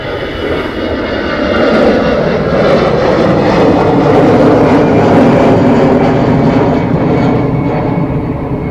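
An aircraft roars at Dublin Airport, a loud, sustained engine rumble holding steady for several seconds with no voices over it.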